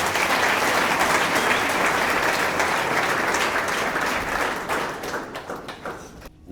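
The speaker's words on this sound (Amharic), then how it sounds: "ለእግዚአብሔር ክብር አጨብጭቡ።" A church congregation clapping for the glory of God, loud sustained applause from many hands that continues for several seconds before thinning out into scattered claps.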